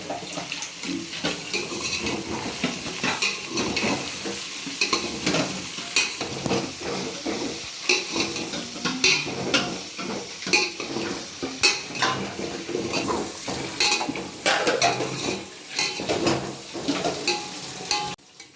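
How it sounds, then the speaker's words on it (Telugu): Carrots, beans, onions, tomatoes, curry leaves and green chillies fry in a pan for a veg biryani, with a steady sizzle and repeated close scraping and clinking of a spoon as the mix is stirred throughout. "క్యారెట్, బీన్స్ కూడా వేసి వేయించుకోండి. ఆనియన్స్, టమాటోస్ అండ్ కరివేపాకు, పచ్చిమిర్చి కూడా వేసి బాగా మిక్స్ చేసుకోండి."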